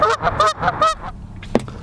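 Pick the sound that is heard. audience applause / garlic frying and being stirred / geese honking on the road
geese honking on the road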